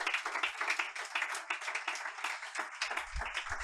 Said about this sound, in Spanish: Alguien dele un aplauso a Dios.